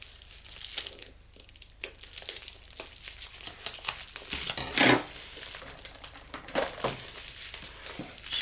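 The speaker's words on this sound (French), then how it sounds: "on va ouvrir ensemble la toile." Diamond painting canvas being unwrapped from its plastic packaging during a mystery box unboxing, with close, irregular crinkling and tearing rustles, a few sharper crackles and a louder burst near the middle, no talking.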